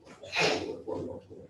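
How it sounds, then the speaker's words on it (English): A single sharp sneeze bursts out, followed by quiet breathy murmurs, close by in a quiet room. "She sneezed"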